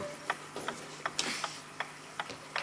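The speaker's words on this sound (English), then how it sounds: "We'll take the snooze button off." Snooze button being worked off a Toshiba solid state digital flip clock radio, a series of small sharp plastic clicks and ticks at an uneven rhythm, close and quiet over a faint hum.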